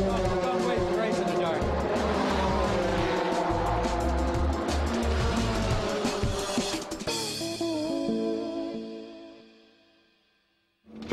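An Audi race car drives at night at Le Mans with a loud, sustained engine roar. Talk runs over it before the sound fades away toward the end.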